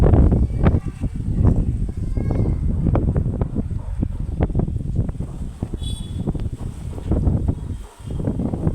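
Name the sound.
strong wind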